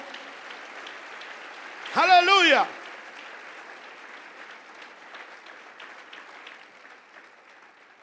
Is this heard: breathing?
no